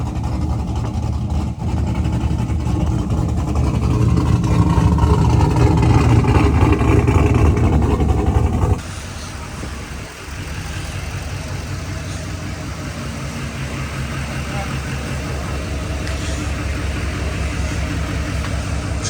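GMC Denali SEMA truck engine running loud and steady, with a heavier rumbling stretch that drops abruptly to a lower, even idle about halfway through, as if the engine nearly cuts off.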